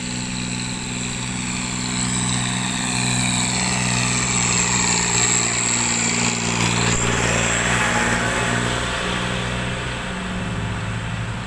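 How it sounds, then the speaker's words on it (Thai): A tractor engine leads a convoy of dump trucks in a merit-making procession in Roi Et, running steadily and loudly with a continuous low drone mixed with other vehicle engines, no talk. "มีรถไถนำกะบวนครับ"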